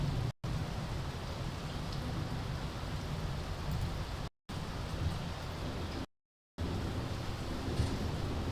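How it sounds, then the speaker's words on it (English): Torrential rain pours steadily as a dense, even hiss of heavy downpour, loud and continuous, broken only by two brief silent gaps. "the sound is great with background torrential rain"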